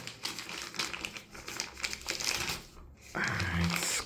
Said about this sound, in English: Let's try to unwrap it real quick.